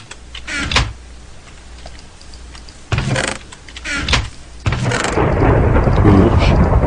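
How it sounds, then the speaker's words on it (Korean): Booming thunder claps from lightning in a Minecraft world, several heavy rumbling strikes spaced a couple of seconds apart, the last swelling into a long, loud roar alongside rain. "번개 많이 치네."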